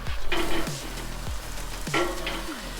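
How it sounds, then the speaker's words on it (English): Tri-tip steak sears over hot coals in a Weber kettle grill, giving a steady close sizzle with a few rising and falling tonal sweeps laid over it. "Let's go ahead and get it flipped over and thrown onto the hot coals."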